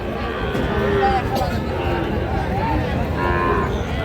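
Sahiwal cattle, bulls and heifer calves at a livestock market in Raniganj, lowing with a few drawn-out moos amid dense crowd chatter and market noise.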